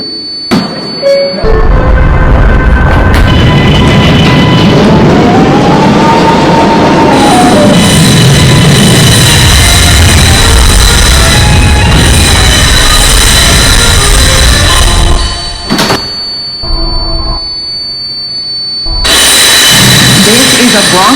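An R142A subway train on the Bronx-bound 4 express runs loud and close, with a heavy rumble, rising and falling motor whine, and squealing wheels, while announcements play over it.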